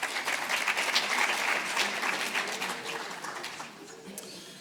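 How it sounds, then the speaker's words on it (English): Audience applause at a high-level closing plenary session of a conference hall, a dense, steady clapping from many hands that starts strong and gradually thins and fades toward the end. "A round of applause, please, as he moderates the next discussion."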